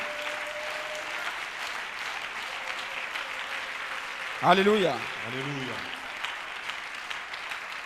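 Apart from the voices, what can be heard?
audience applause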